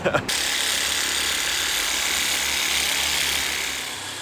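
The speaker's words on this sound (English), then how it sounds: "So I just got the Theragun. This thing is loud, but I really like it." A Theragun massage gun runs with a loud, steady motorized buzz, starting right after a few brief knocks and then holding on continuously before easing slightly near the end.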